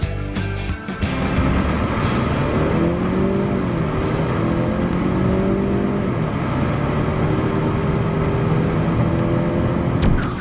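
A 2013 Ford Fusion Titanium with a turbo engine accelerates at full throttle, its engine note climbing steadily through the gears in a loud, continuous drone heard from inside the car.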